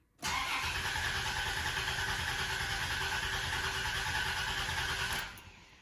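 A Dodge Intrepid engine cranks over steadily for about five seconds, a continuous whirring starter drone heard up close inside an engine bay, then cuts off.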